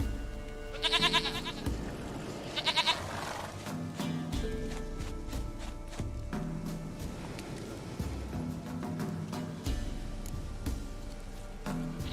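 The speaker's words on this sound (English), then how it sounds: "Goat of mine, dearest," A goat in The Witcher 3 gives several short, quavering bleats spread across the stretch, interspersed with soft thuds and rustling from the game world, with no one talking.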